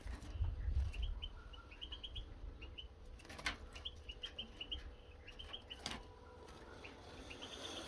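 Faint, high chirping notes from a small caged songbird come in short bursts over a steady background hiss, with occasional rustles and wing flutters.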